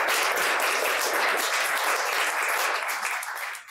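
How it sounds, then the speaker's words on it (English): Audience applause, a dense steady patter of many hands clapping, sustained and fairly close, tapering slightly at the end. "Let's welcome him with an applause."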